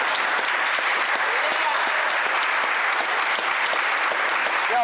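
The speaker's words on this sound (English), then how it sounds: "Y'all stand up and give a man a round of applause." Audience at a special mayor and board of trustees meeting gives a standing ovation for a police officer, with dense, sustained applause filling the room throughout, steady and loud, with a few voices mixed in.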